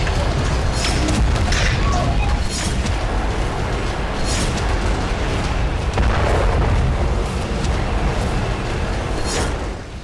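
Heavy booming explosions from Israeli fighter jet strikes roll through news footage, a dense, loud rumble with repeated bursts and blasts layered over one another, while a voice speaks underneath.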